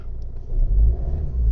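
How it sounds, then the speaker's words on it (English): A Ford Focus mk2 engine idles and then revs up just after starting, giving a loud, close, deep rumble that swells and holds steady with no talking. "We're revving up."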